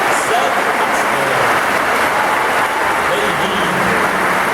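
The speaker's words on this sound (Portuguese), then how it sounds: "Daí agora salva de palmas" A church congregation welcoming its new bishop claps continuously in a loud, dense wash of hands filling the room without a break.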